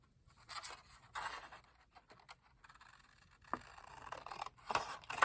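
Paper for a handmade no-sew journal is trimmed with quiet snipping and rustling, several short cutting strokes and scrapes, close and faint.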